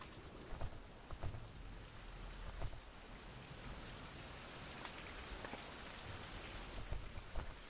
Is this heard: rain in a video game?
yes